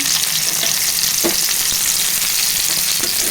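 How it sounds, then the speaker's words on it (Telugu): Thin, long-cut onion slices fry in hot oil, giving a loud, continuous sizzle and crackle with small pops, close by and with no talking. "ఇప్పుడు ఉల్లిగడ్డలు వేస్తున్నాను"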